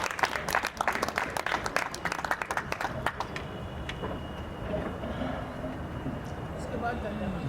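A mushaira poetry festival audience in Jaipur breaks into applause to welcome a poet, dense clapping for about three seconds that thins out and fades into a quieter hall.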